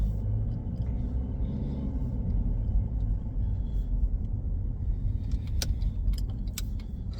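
A car on the road during a driving lesson, a steady low engine and road rumble throughout with a few light rattles and clicks inside the cabin near the end, no talking.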